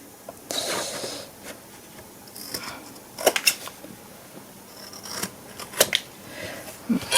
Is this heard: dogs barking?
no